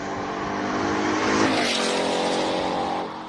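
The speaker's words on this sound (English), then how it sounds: "It's Ford Mustang Mark 1." Ford Mustang Mark 1 race car climbing a Cape Town hillclimb course, its engine note loud and continuous with a rising, revving pitch as it passes close, then easing off at the end.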